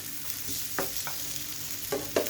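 Fish frying in a pan just after being turned, a continuous close sizzle with a few light clinks and scrapes of a utensil against the pan.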